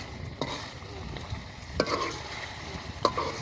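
Goat meat cooks in a pot under a soft steady sizzle, while three distinct clanks of a stirring spoon striking the pot land roughly every one and a half seconds, close and clear.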